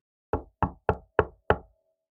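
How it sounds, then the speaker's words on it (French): Five firm knocks on a door, evenly spaced at a steady rhythm, loud and close, with silence between them and no voices. "Et je vais toquer à la porte."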